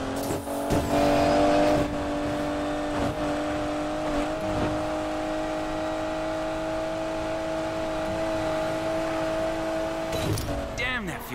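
Car accelerating in the racing video game Need for Speed Payback: a steady, sustained engine drone holds an even pitch for most of the clip, with brief transient clicks and game effects near the start and end.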